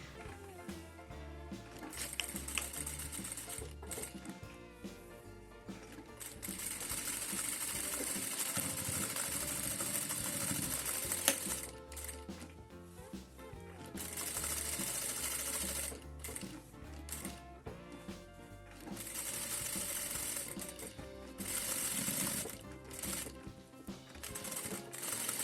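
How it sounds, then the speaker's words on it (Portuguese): Sewing machine stitching a zipper onto a small mini wallet purse, running in steady bursts with brief pauses between stitching runs, fairly close and continuous, with no talk. "Vou mostrar aqui na máquina para vocês entenderem melhor."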